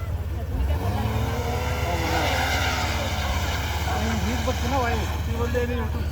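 A car engine drones steadily while a vehicle drives, with people talking over the continuous road noise.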